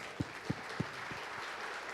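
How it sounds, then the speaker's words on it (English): A small audience claps for a speaker after a talk on investing in Mexican indie game studios, a few distinct claps at first and then a soft, scattered patter in a quiet room. "Round of applause to Jason here."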